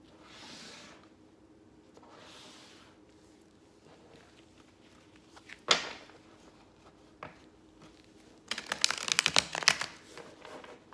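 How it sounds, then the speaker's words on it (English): Tarot and oracle cards being shuffled by hand, soft riffling and rustling at low volume with a few sharper card snaps, building to a louder flurry of shuffling near the end, no voice present. "I will shuffle and pull four cards from each deck to form four different piles"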